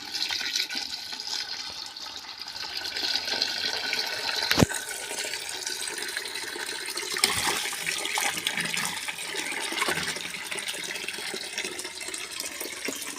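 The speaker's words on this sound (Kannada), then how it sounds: "ಒಂದೂವರೆ ಕಿಲೋ ಬಟಾಟೆ ತಂದಿದ್ದೇವೆ ಹಾಗೆ ಅದನ್ನು ಮೊದಲು ಚೆನ್ನಾಗಿ ತೊಳಿಬೇಕು" Potatoes, about one and a half kilos, are washed in water for French fries, giving a steady close splashing and running-water wash with occasional sharper knocks and no talk over it.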